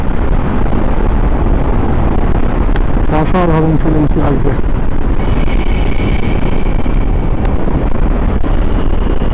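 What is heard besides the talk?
motorcycle riding through the Atal Tunnel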